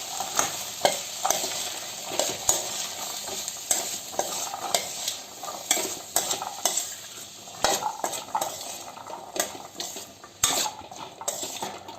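An energy salad seasoned with cumin is mixed in a bowl, producing close, busy clinks and scrapes of a spoon against the dish in an uneven rhythm, with no voices.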